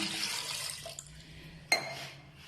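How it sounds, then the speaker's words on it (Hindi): Water splashes and pours into a metal pressure cooker, a short uneven gush with a couple of sharp clinks as it fills. "तो इसमें 1 गिलास जाएगा पानी।"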